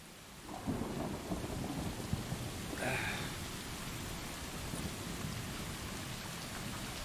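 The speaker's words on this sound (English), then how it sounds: "Rain." Steady, dense rain falls in the game Stray, a constant wash of drops with a low rumble of thunder rolling under it, and no talking.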